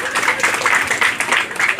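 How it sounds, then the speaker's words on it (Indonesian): Audience applause at a local event gathering on Pantar, loud close clapping in uneven bursting waves from a crowd, heard on its own. "Tepuk tangan untuk dia."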